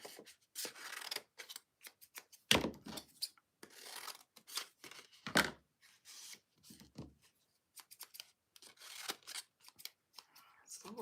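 Close scissors make repeated crisp snips and rasping cuts in uneven bursts, with brief pauses between strokes.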